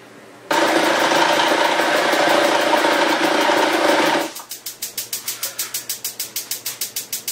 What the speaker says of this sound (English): First, I put the lean meat through the machine first, and then I mix it, the fat and lean,